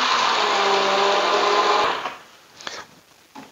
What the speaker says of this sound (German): jetzt Pürierstab holen und das alles pürieren.